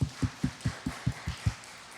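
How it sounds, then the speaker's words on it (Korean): A church congregation claps together in steady, evenly spaced beats, about eight sharp claps in a row, moderately loud and without talk over them. "하나님께 영광의 박수 돌리겠습니다"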